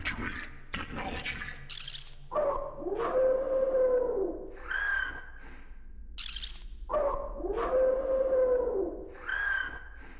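A dog howls in the horror game STASIS: Bone Totem, two long wavering howls separated by a pause, each rising and falling, with sharp bursts and a low background hum in an otherwise quiet scene.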